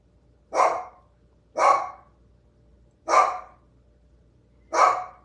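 A dog barks four times in separate, evenly spaced single barks, close and fairly loud, with quiet room background between them.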